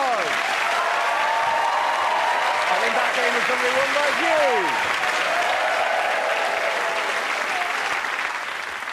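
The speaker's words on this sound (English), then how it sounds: "give everyone a round of applause" Studio audience applause at a televised comedy panel show, a dense sustained wash of clapping filling the whole stretch while a host speaks over it.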